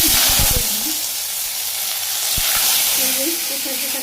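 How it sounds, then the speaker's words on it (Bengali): Cumin seeds, bay leaf and five-spice sizzle loudly in hot oil in a village kitchen, a steady bright frying hiss broken by a few clinks and stirring knocks. "এখানে তেলও দিয়ে দিছি, এখানে জিরা তেজপাতা পাঁচফোড়ন একটা করে দিয়ে দিলাম"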